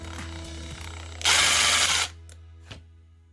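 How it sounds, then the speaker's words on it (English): Ratcheting clicks and a loud burst of whirring as screws are driven into a furnace inducer motor housing, with a hum underneath and a few faint clicks afterward. "Just connect it to the screw and tighten it up, and then tighten up the rest of the screws."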